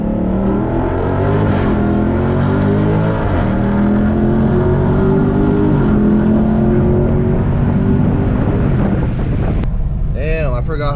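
2018 Dodge Charger Daytona 392 with an 8-speed automatic pulls hard under full throttle, a loud, continuous engine roar climbing in pitch through the revs, with wind buffeting and an abrupt upshift near the end.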